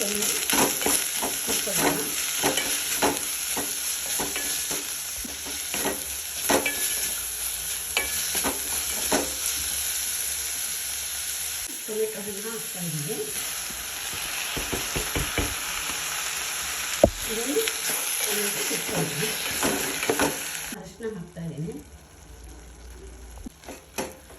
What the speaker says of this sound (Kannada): ಪುದೀನ ಹಾಕ್ತಾ ಇದ್ದೀನಿ ಕರಿಬೇವು ಹಾಕ್ತಾ ಇದ್ದೀನಿ ಕೊತ್ತಂಬರಿ ಸೊಪ್ಪನ್ನು ಹಾಕ್ತಾ ಇದ್ದೀನಿ